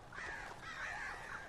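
Crows caw in the horror video game Alan Wake, a few harsh, rasping calls in quick succession, fairly faint over a steady background hiss with no talking.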